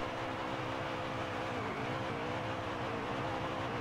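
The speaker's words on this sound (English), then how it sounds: "Good set of burnouts." Truck burnouts in the racing game NASCAR Heat 3 give a dense, steady engine roar with tire squeal, loud and continuous throughout.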